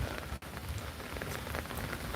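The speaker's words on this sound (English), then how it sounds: "I think the rain started to ease off, which is nice to hear" Rain falls outside in a steady, close, even hiss of drops pattering on surfaces, continuous and unbroken apart from one brief dip.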